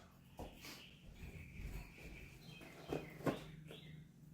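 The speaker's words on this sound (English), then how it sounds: "Wow, those birds are loud." Bird chirps ring out over a steady background hum, with a few louder, sharp calls near the end.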